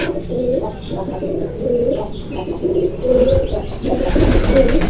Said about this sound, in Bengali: এখানে আছে একটা সাদা কবুতর আর সাদা কবুতর দেখতে খুবই সুন্দর তার উপরে ওর মা তাকে পাহারা দিচ্ছে